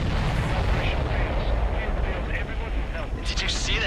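Heavy explosions and gunfire rumble continuously in Ace Combat 7 aerial combat, a dense loud low roar with a brief burst near the end, under radio chatter.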